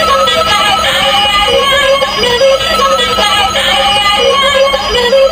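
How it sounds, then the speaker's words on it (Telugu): A battery-powered musical toy landline phone plays a bright electronic tune when its buttons are pressed, with loud, steady beeping tones that run continuously with no talking. "ఆ బ్యాటరీస్ వేసుకున్న తర్వాత మనకి ఏ బటన్ ప్రెస్ చేసినా కానీ సౌండ్ వస్తుంది"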